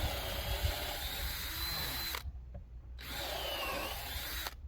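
A power drill whirs steadily on wooden fence bracing in two close runs, separated by a brief pause.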